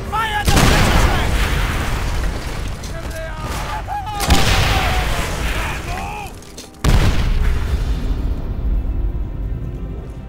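Cannons boom in the Call of Duty: World at War battle, heavy blasts striking at intervals amid gunfire and chaotic combat noise, with voices shouting over the din.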